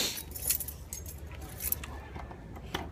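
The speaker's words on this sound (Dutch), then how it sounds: "Kleine sleutel." A small key jangles in brief metallic bursts, with rustling handling noise in an outdoor vlog setting and a low rumble of background traffic or wind beneath.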